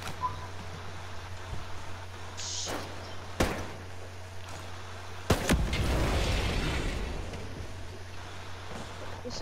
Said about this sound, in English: There seems to be a lot of explosions.